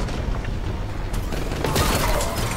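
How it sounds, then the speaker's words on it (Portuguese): Gravity Gun firing in the Warhammer 40k Boltgun video game, a dense burst of loud repeated blasts with crackling impacts that swell toward the end, continuous and close with no talking. "Tiro da Gravity Gun, delícia."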